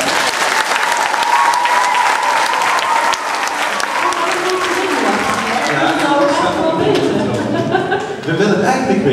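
Hearty audience applause rolls on at full strength, mixed with chuckles and scattered voices from the crowd, the clapping thinning as talk and noise rise toward the end.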